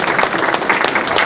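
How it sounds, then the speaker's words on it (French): Loud, close applause rings out from the audience at a French gastronomy gold medal ceremony in Dijon, 2019, a dense burst of many people clapping in quick, overlapping pulses. "On peut les applaudir encore une fois très fort et le méritent."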